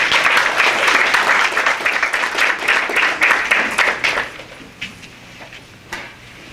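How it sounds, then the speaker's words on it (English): Audience applause with steady hand clapping at a Hartford mayoral campaign announcement event, dense and loud at first, then thinning to a few scattered claps as it fades out. "Give her a hand clap."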